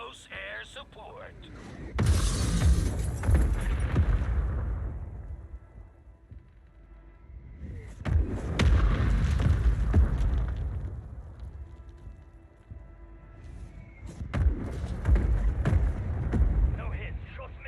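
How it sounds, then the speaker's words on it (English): Mortar strike explosions in a video game: three heavy, rumbling blasts arrive a few seconds apart, each swelling into a long roaring decay, with a quieter mechanical background and voices talking between them. "Hostile mortar strike near your position."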